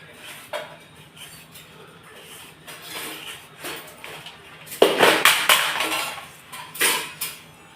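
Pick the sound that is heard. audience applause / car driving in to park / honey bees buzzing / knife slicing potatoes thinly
knife slicing potatoes thinly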